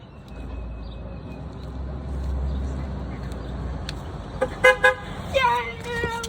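A passing car on a road gives a few short horn toots near the end, over low traffic rumble, with people talking nearby.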